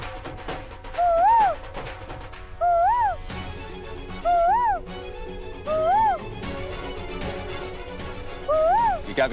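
A woman imitates bird calls with owl-like hooting, making five separate rising, wavering hoots spaced evenly over a background of people and ambient noise at a temple setting.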